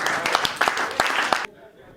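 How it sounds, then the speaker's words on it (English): A room of attendees at an investigative and solutions journalism workshop clapping together, steady dense applause that cuts off abruptly after about a second and a half, leaving near silence. "please give me a round of applause"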